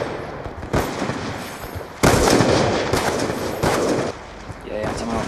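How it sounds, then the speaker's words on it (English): Rapid gunfire in a free-for-all shooter game on the Faro map, loud and dense with repeated bursts and sharp cracks, while a player talks over it. "I'm getting shot in the back."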